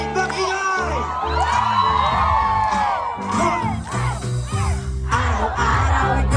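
A large concert crowd in Madrid, Spain cheers and shouts loudly throughout, with whoops and yells over music, the roar swelling and dipping but never stopping.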